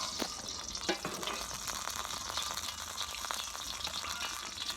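Vegetable oil fries in a hot pan while egg fried rice with bologna is being made. A close, continuous crackling sizzle carries scattered sharp pops, with no talking.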